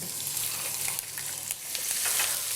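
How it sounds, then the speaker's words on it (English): Steady hissing sizzle of a rack of lamb frying in a hot pan, continuous and close, with faint crackles and a low hum underneath. "Once you hear the sizzle"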